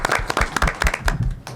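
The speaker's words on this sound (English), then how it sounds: "Give Karen a round of applause" Audience applause at a diversity, equity and inclusion round table, a short burst of scattered hand claps from a small group, close and fairly loud.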